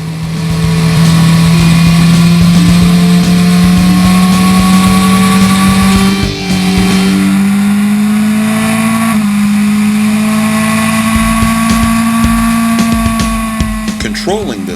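A 2010 BMW S1000RR motorcycle being ridden, its engine note holding loud and steady with gradual rises in pitch as it accelerates. There is a brief dip near the middle, and the sound stays continuous and close.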